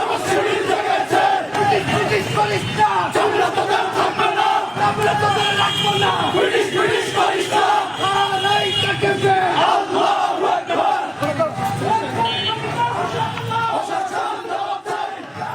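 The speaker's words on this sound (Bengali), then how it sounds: "এ সময় জামায়াত বিএনপি নেতাকর্মীরা হাসপাতালে জড়ো হয়ে বিভিন্ন স্লোগান দেন।" Crowd of Jamaat and BNP party activists gathered at a hospital in Lakshmipur, chanting slogans in a loud, continuous mass of voices that stays steady throughout, close and dense.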